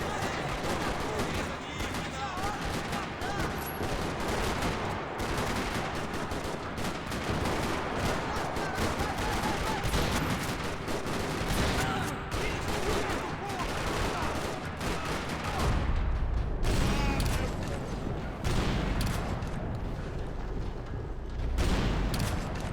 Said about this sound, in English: Another parking lot rattling with gunfire.